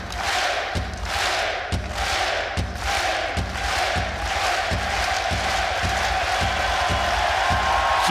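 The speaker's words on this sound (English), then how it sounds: "And if there's anyone who's good at working up a crowd, it is Kerrigan." A large arena crowd roars and chants at an esports grand final day, loud and continuous, with rhythmic thumping beats punctuating the cheering throughout.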